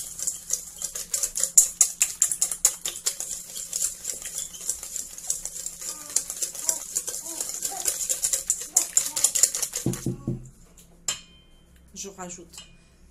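Pancake batter with vanilla being whisked in a bowl, a fast steady run of clinking, scraping strokes that stops abruptly near the end, followed by a few faint knocks.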